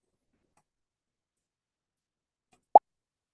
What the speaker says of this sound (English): So it has the pop sound.